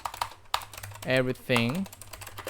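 Keys on a computer keyboard clatter during C++ coding, a quick patter of close taps broken by a few spoken words.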